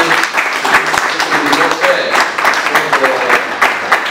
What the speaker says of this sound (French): je voudrais que vous puissiez l'applaudir